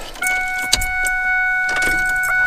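A Ford 7.3 Powerstroke diesel truck starts up and settles into a loud, steady running rumble, with a thin constant tone held above it throughout.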